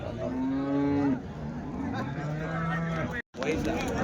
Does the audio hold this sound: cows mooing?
yes